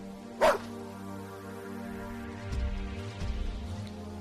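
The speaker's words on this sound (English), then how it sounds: "turned back to Brutus and barked at him twice" A single sharp dog bark sounds up front, followed by low rumbling, muffled noises over a droning background.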